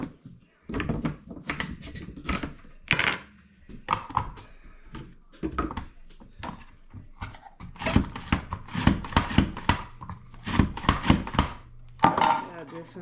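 A knife works over carrots on a cutting surface while preparing vegetables for a homemade spaghetti sauce, making a close series of uneven knocks and scrapes that come in short, busy bursts.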